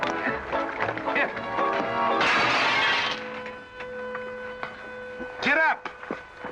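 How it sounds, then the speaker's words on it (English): A hanging looking-glass mirror shatters in a 1940 western film, a bright burst of breaking glass lasting about a second amid scuffling and grunts, with dialogue before and after. "You busted Lily's looking glass."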